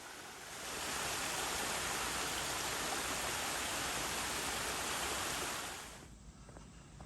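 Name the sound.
waterfall after rain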